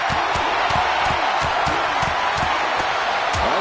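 A crowd in a wrestling arena in a WWE 2K video game roars in a steady, loud wash of cheering, with faint rhythmic thuds and claps pulsing underneath throughout.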